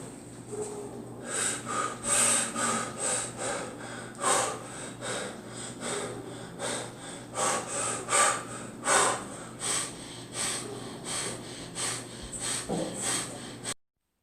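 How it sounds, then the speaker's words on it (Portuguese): Heavy, rhythmic panting breaths, close and loud, repeating steadily for over ten seconds with no talking. "agora eu vou começar a respiração ofegante"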